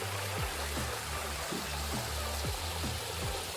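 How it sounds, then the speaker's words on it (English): Steady broadband rushing water from a waterfall along a forest walking loop, a continuous wash of noise heard from some distance with a few faint footfalls or knocks beneath it. "That's a waterfall right at the back."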